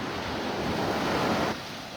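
Ocean waves break at Delnor-Wiggins beach in Naples, Florida, a loud close rushing surf wash that swells and then eases, with some wind rumble on the microphone.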